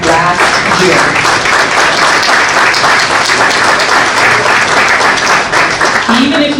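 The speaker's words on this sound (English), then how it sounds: "give yourselves a round of applause for what you were able to do last year" A lecture audience applauds loudly and steadily, dense clapping filling the hall without pause, with faint voices underneath near the end.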